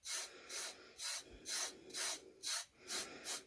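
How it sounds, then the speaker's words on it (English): Gloved hands rub loose glitter off a tumbler cup in quick, rhythmic rasping strokes, about eight brushing swishes in steady succession, close and fairly quiet. "You're just going to rub the glitter back off."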